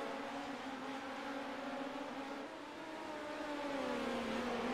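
Wingless race cars accelerating onto the track at the green flag, a faint, distant, steady engine drone with slowly shifting pitch as the pack throttles up.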